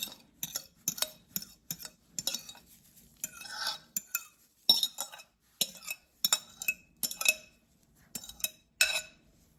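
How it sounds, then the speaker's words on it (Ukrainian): A spoon stirs oat flakes with egg in a bowl, making a close, rhythmic series of clinks and scrapes against the sides, with short pauses between strokes. "Перемішую добре щоб листі всі були рівномірно вологі"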